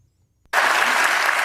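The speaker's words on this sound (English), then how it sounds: "Are they clapping for me?" A studio audience bursts into applause on a daytime talk show after a short silence, the clapping loud and sustained to the end.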